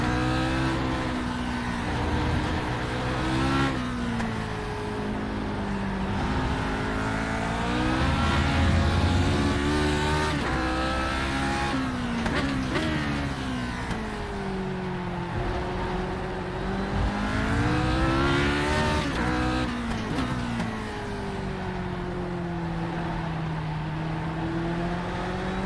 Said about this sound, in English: Spinning up the rears, a bit impatient on the throttle.